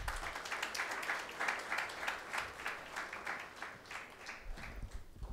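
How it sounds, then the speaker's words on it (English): Audience applause at a PG diploma convocation ceremony, a soft, steady patter of many hands clapping in a hall, fairly faint and continuous, with no talk over it. "So claps for them."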